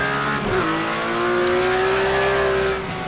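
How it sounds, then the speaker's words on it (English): Porsche race car engine in Project Cars 2 holding a steady, loud, sustained high drone that shifts up in pitch after a brief dip, then runs evenly before easing off, close and with no voices. "This Porsche is actually a lot of fun to drive too"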